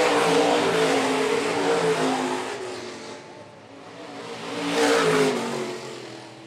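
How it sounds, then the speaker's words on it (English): Stock cars race past at Phillips County Raceway, engines roaring loudly, fading, then swelling again as another car passes close by. "Joe Bellum, that's the closest battle on the racetrack"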